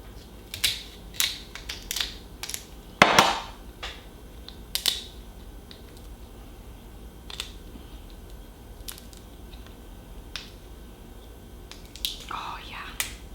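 Snow crab leg knuckles are cut open and picked apart during a seafood boil meal, producing close, sporadic cracking snaps and crunchy shell clicks with wet squishes, while quiet breathy voices murmur between the bursts.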